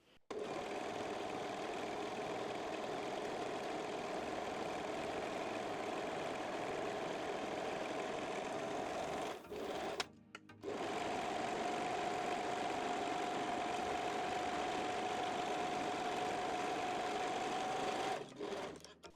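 A serger whirs steadily while overlocking fabric edges for a wire-free lace bra. The loud, continuous motor drone runs for about nine seconds, stops briefly, then starts again and runs to the end.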